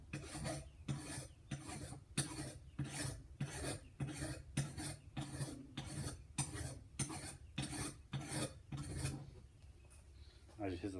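A file rasps across the top of a metal axe head in rhythmic strokes, about a dozen loud, close scrapes evenly spaced with brief pauses between them.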